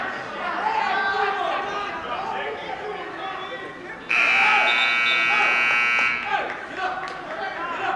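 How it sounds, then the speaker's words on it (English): A wrestling round ends with a long, steady electronic buzzer at a high school varsity dual meet in a gym. It sounds loud for about two seconds over crowd chatter and an announcer's voice. "There's the buzzer for the end of the round."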